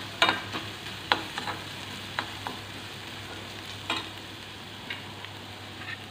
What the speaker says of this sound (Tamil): ஆனியன் வந்து நமக்கு ரொம்ப வதங்க வேண்டாம், இந்த அளவு வதங்கினா போதும்.